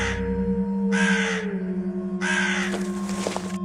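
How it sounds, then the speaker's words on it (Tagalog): A crow caws in harsh, repeated bursts, two or three loud calls standing out over a steady low hum. "Yun yung huni ng ibong narinig ko noong nakaraang gabi ha."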